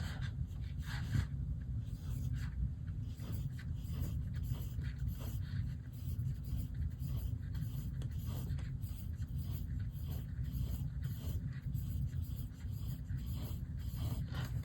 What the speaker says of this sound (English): So first, let's draw 20 grapes.